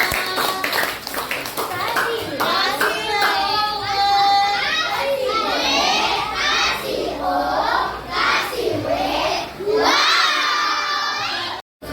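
Classroom crowd of children clapping and shouting together, a loud, sustained burst of applause and cheering that fills the whole stretch, with voices mixed in throughout.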